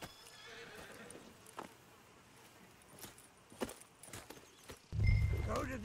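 A horse whinnies in a Red Dead video game, with clip-clop hoof steps and a jangle of tack under faint background sound, then a loud low snort or close burst near the end.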